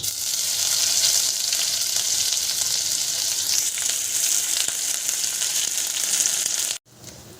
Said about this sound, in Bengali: আদাটা ভাজা হয়ে গেছে ভালো করে